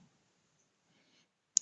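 A single sharp computer mouse click lands near the end after near silence, with a faint tick or two just before it.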